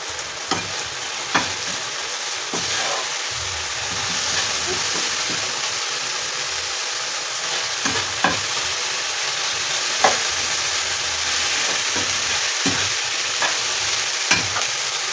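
Beef for stew fries in a pot with a constant close sizzle, while occasional light knocks and stirring clatters sound over it.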